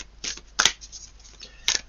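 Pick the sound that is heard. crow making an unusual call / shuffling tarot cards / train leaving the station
shuffling tarot cards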